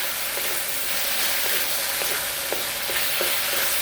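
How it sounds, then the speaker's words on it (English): Spareribs coated in cornstarch sauté in a pan for black bean sauce, producing a loud, dense, continuous sizzle with faint regular scraping taps of stirring through it. "So we'll saute it."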